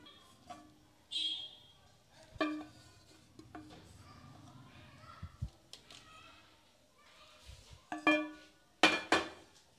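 Cape gooseberry jam is turned out of a pan into another bowl in a kitchen, giving scattered clinks and scrapes of a spoon against metal and glass, with a sharper cluster of clatter near the end and no talk over it.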